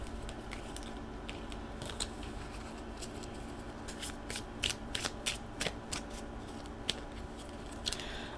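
Tarot card decks being shuffled up close, soft papery riffling with bursts of sharp snapping clicks as the cards slip and bridge, quiet and unaccompanied by talk.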